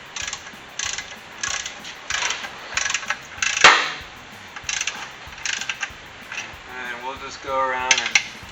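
A hand ratchet snugs up transmission bolts on an LS-swapped C10 pickup, clicking in repeated short bursts with pauses between strokes and a sharp metallic clink midway, close and fairly loud.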